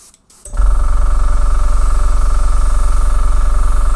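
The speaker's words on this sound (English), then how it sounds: "let's notice when the compressor kicks in, if you can see any difference on the flux of paint" An airbrush compressor from a Fengda starter kit kicks in after a brief quiet moment, then runs as a loud, steady motor drone with a continuous hiss of air and spraying paint, close and without talk.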